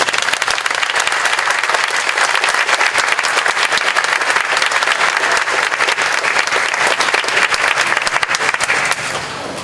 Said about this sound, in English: Another round of applause for the Lieutenant Governor.